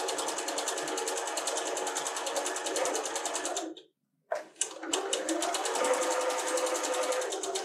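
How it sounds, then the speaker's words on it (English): A sewing machine chain-stitching quilt squares for a friendship star block, a fast steady whirring stitch close by that pauses briefly for a second, then resumes at the same even pace. "I said we were going to chain stitch, so we're going to do the next one"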